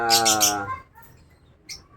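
A pet bird in a cage gives a loud, bright burst of chirps at the start, then quieter scattered tweets and one more short chirp near the end.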